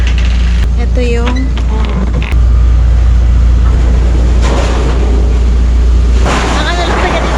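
Strong wind blows across a campsite in Tuba, Benguet, a loud, constant roaring buffet with low rumbling gusts, while voices talk faintly beneath it.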